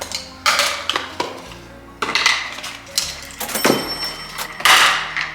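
Camping bowls clatter and knock together as they are handled, a series of sharp, close hollow clacks and scrapes at an uneven rhythm, loud and with no talking.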